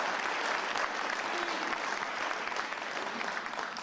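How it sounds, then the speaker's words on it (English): Sustained applause from a crowd at a police commissioner swearing-in ceremony, a dense steady clatter of many hands clapping at an even loudness throughout, with faint voices mixed in. "Give them all a round of applause, please."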